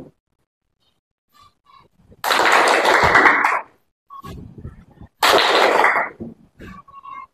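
A class of students claps in unison during an ice-breaking game in two loud, dense bursts separated by a short pause, with faint murmurs and small sounds in between.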